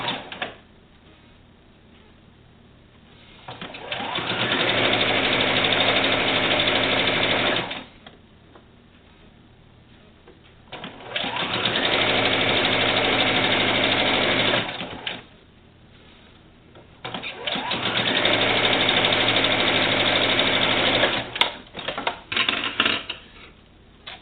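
A sewing machine stitches a quilt border in three sustained whirring bursts of a few seconds each, separated by quiet pauses, close and loud with no talk.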